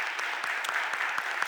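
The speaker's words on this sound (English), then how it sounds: "just want to give her a round of applause as well" A small audience claps at a city budget hearing, a faint, quick patter of hands with evenly spaced claps, short and fairly distant.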